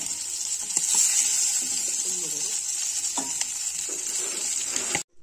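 Fish frying in oil in a kadai with onion, ginger, cumin and pepper spices nearby, a loud continuous sizzle with occasional stirring clinks before it cuts off abruptly.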